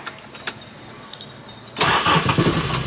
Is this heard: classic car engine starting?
yes